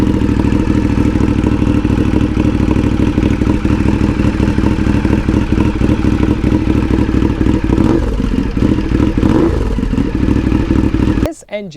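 A 2015 Ducati Diavel's engine idles close up with a loud, steady, lumpy mechanical thrum, a couple of light revs late on, before cutting off abruptly at the end.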